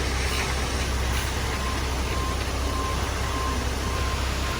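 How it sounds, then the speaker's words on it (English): A truck reverses slowly at a site where a concrete slab is being poured, a steady low engine rumble holding at even loudness throughout, with no voices. "Okay, backing up the truck."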